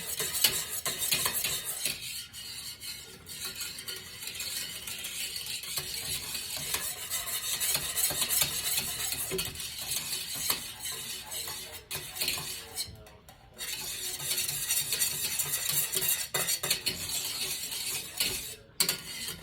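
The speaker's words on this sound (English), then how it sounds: "Should have made April come in here and do this whisking." Continuous scraping and clinking of a utensil whisking lemon curd ingredients, including eggs, around a bowl, steady and close, with a few brief pauses along the way.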